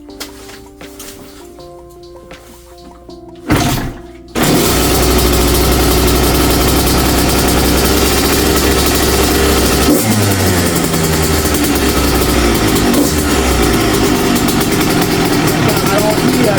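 A 1995 125cc CR motorcycle, cold and on choke with the fuel tap open, is quiet at first, then a short kick brings the engine to life. It runs loud and steady close by, with the revs shifting partway through.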